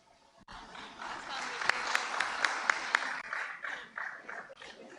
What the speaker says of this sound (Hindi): भरपूर तालियां हो जाएं ख़वातीन हज़रात।